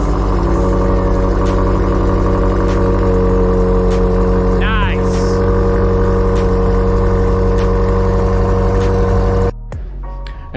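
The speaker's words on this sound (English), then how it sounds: "this particular vehicle has the M Sport exhaust system, which sounds pretty good." A 2022 BMW X5 M with the M Sport exhaust drones loudly in a steady, sustained rev with a strong low hum, then the engine sound drops off abruptly near the end.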